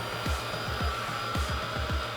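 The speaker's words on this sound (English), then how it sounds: "you're gonna turn on the blow dryer" A blow dryer fitted with a diffuser runs steadily on low speed, a constant airy whir close by, with soft rhythmic thumps as it is worked up into curly hair; no one speaks.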